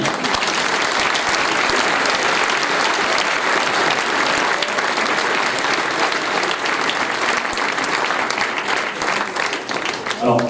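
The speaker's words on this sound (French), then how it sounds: "Je voudrais que vous puissiez les applaudir." Indoor audience at a municipal New Year's reception for the mayors gives sustained, dense applause, loud and steady throughout, with the clapping of many hands blending into a continuous roar and a voice briefly audible within it.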